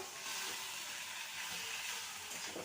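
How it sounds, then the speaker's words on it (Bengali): Taro stems cooked in spices sizzle and hiss in a pan as fried hilsa fish pieces are stirred in, a soft, steady frying crackle with faint stirring, fairly quiet and without speech. "এবার ভেজে রাখা মাছের টুকরোগুলো দিয়ে দেবো ভালো করে নেড়ে নেব"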